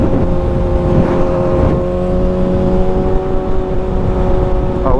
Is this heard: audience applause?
no